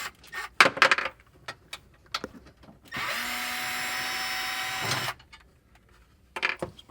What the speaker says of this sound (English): Taking our T30, removing the 2 bolts that hold the seat down.